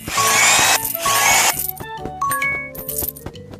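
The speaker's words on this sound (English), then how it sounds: "Let's drill the holes." A cartoonish drill whirs in a kids' horse care game, two short bursts of buzzing followed by bright plinking chime effects over a bouncy background tune.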